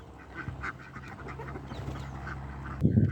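Ducks on a farm quack in short nasal calls, with one louder burst of quacking close by near the end over steady low background noise.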